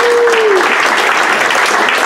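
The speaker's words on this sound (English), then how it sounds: "Let's just give a round of applause for how awesome this is." A conference audience breaks into sustained applause, dense, steady clapping filling the room from start to end with no pause, a short tonal whine briefly audible near the start.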